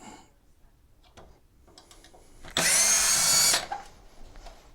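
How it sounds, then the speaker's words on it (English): A power driver whirs for about one second, loosening a screw at the back of a Go-Go Traveller Plus mobility scooter. It is a loud, close, high buzzing burst amid faint clicks and handling noises. "just need to undo the two screws at the back"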